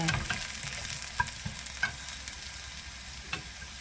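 Sliced garlic sautés in a pan with a continuous bright sizzle and occasional light scrapes and taps of a utensil, close and steady.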